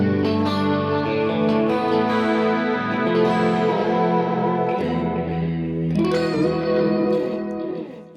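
Electric guitar played through a cleaned-up Deluxe Tweed and a 6G4 Super amp together, a sustained, layered tone with effects-laden shimmer and echo, ringing chords changing around five and six seconds, loud and close with no talking.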